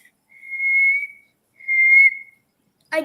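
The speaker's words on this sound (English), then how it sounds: "I can whistle normally like this" A person whistles two sustained, steady notes with a short pause between them, clear and close, followed by a brief breathy sound.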